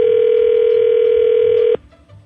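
A telephone dial tone hums loud and steady while a call is placed, then cuts off abruptly near the end, leaving faint background noise.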